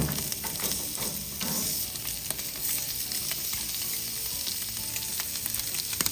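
Steak searing on a Blaze LTE gas grill gives a loud, continuous close-up sizzle, with crackling pops over a constant hiss and no talking.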